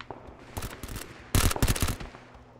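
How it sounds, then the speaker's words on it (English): Gunfire in the battle royale game PUBG, rapid bursts of automatic weapon shots, a lighter spray early then a louder, denser volley in the middle that trails off, with no talking over it. "Why are you still shooting?"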